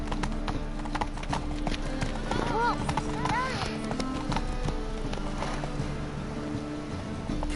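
A horse galloping in The Witcher 3 video game, with rapid rhythmic hoofbeats close and steady throughout, a brief whinny partway, and a voice speaking over it.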